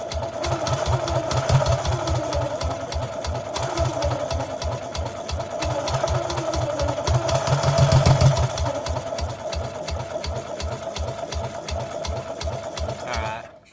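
A barn-find BMW Isetta's small engine running on a carburetor fed by a rag, a rapid, even, close putt-putt rhythm that swells slightly midway and cuts off abruptly at the end.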